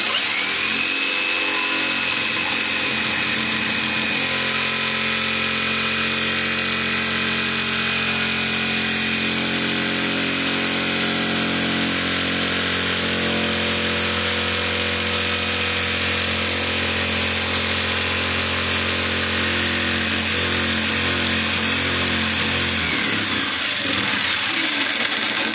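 A jigsaw cuts a pocket in a wooden sash window frame through pre-drilled holes, a steady close buzzing rasp running continuously for over twenty seconds before winding down near the end.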